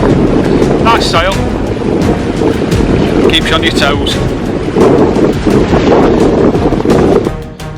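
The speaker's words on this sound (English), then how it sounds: "Winds we're gusting up to 20. We've got a bit of chop now, so nice sail." Gusting wind up to 20 knots roars across the microphone aboard a sailboat making about 7 knots through choppy sea, loud and continuous with water slaps, while a person speaks briefly.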